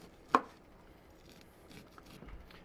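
A knife makes one sharp, close chop through grilled corn cooked over a Weber kettle grill, then only quiet background follows.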